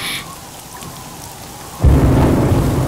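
Heavy rain and thunder burst into a film scene, a loud low rumble and dense rainfall suddenly swelling after a quieter stretch and holding steady, with no voices over it.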